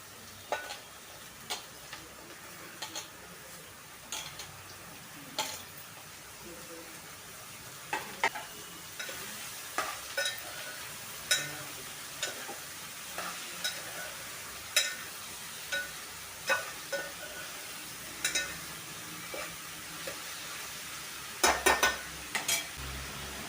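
Ridge gourd pieces frying in a pan, a soft steady sizzle broken by regular scraping knocks of a spoon stirring them, close and fairly quiet.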